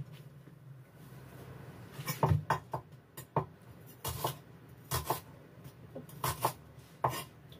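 Knife chopping fried rice ingredients on a board in a home kitchen, a series of uneven sharp chops and taps coming in irregular clusters at close range, with no voices.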